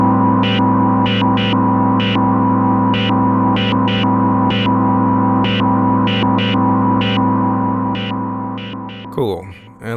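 A Moog Matriarch pad patch with its sequencer modulating the sound gives a sustained droning chord chopped by rhythmic glitchy bursts, loud and continuous, ending in a brief sweep.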